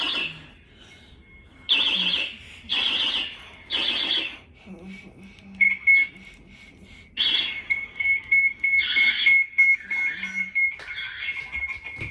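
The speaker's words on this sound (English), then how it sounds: "Fire alarm." A GE Networx NX-8 security system sounds its fire alarm, a loud near electronic beeping in repeated bursts with short gaps, over faint background noise.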